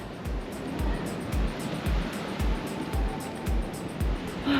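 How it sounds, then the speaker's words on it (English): Ocean waves off Kuta, Lombok crash against rocks in a steady series of low, rhythmic thumps about every half second, under a constant broad wash of surf. "You can really see the blue water just starting to crash against the rocks"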